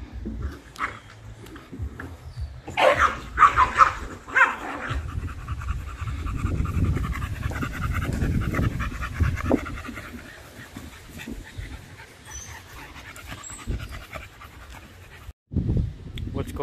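American Bully puppies panting close by, with quick rhythmic breathing, scratching and shuffling, and a voice talking over parts of it.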